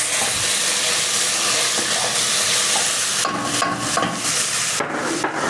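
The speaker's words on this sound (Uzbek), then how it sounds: "Aralashtirib olamiz va suv solamiz." Bean soup is stirred in a pot and water is poured in, giving a continuous sizzling, rushing wash with a few scraping clatters of a utensil toward the end, no voices.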